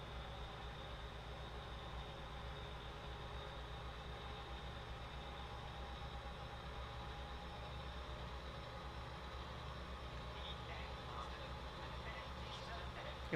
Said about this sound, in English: Just so we can get that rumble of the engine.